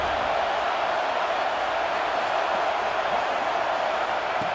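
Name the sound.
home crowd cheering at a college football game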